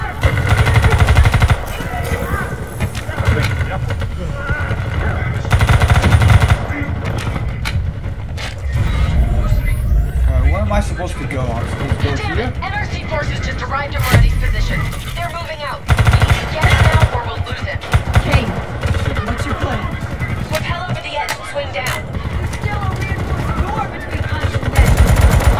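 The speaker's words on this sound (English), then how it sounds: "Submachine gun." Rapid submachine gun bursts in Call of Duty Black Ops 3, loud and continuous across the stretch, mixed with other game battle noise and layered under a voice talking.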